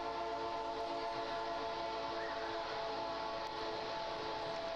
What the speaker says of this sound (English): And you can hear that train, can't you?